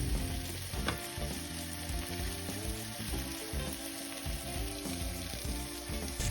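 Meat searing in a pan on the stovetop to build a crust, a steady loud sizzle and fry with occasional stirring or shifting noises, continuous throughout without speech.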